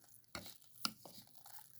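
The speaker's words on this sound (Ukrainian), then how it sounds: "Добре розмішуємо" A few soft, quiet scrapes and squelches of a spoon mixing salted and peppered minced meat in a bowl, with pauses between strokes.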